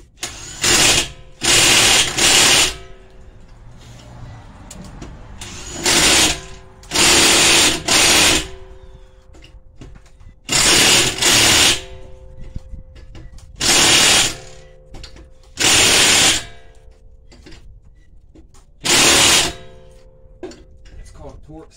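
An impact wrench fitted with a torque stick tightens the wheel of a 2010 Dodge Avenger during brake and rotor work. It gives loud, short whirring bursts, often in pairs, separated by pauses filled with men's conversation.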